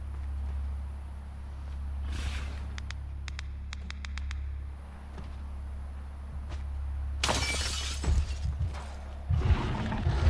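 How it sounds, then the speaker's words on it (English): Glass shattering inside a horror video game set aboard a train, a sudden loud crash of bright breaking shards near the end, preceded by scattered clicks over a steady low rumble. "I'm gonna have to break the glass."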